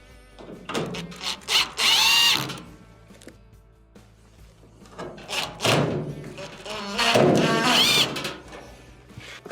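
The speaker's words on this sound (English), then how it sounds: "Reinstall our 2 Phillips screws." A power driver drives Phillips screws into the frame of an LG dryer, sounding as two separate bursts of whirring with clatter and thumps between them.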